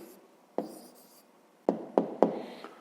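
Handwriting on paper while noting down the answer to a fifth-grade math problem: soft, close scratches with a few distinct taps of the pen and short pauses between strokes, no voices.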